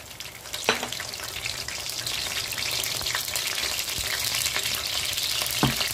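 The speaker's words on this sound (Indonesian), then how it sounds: "Bawang putih halia. Tumis sampai naik bau wangi." Garlic, ginger, curry leaves and fenugreek stir-fry loudly in hot oil, a dense continuous sizzle up close, broken by a few sharp spatula knocks against the pan, with no speech.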